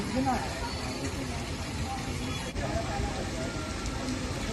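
Heavy downpour in Ghaziabad, a steady dense hiss of rain falling on surfaces throughout, loud and continuous with no break.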